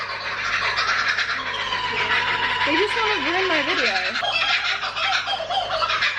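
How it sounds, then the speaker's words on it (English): Loud turkey-like gobbling and warbling bird calls rise and fall in bursts in Ayr, Australia, while a person talks over them. "Those are the funny birds again. Okay, they're all laughing now."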